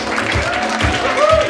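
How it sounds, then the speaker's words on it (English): An audience at a panel event claps and cheers, a steady wash of applause mixed with crowd voices and shouting, loud and close throughout. "I need everybody clap your hands,"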